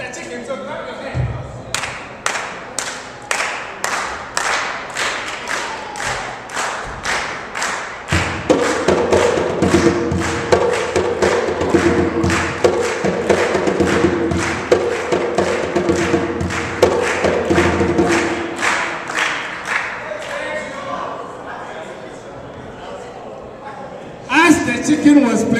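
A drum is struck in a steady run of hard thumps while a group claps along in time during a multicultural day storytelling session, as a voice talks over the beat.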